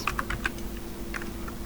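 Quick keystrokes on a computer keyboard as a website name is typed, a short burst of light clicks followed by a few more taps, fairly close and moderately quiet over a steady hum.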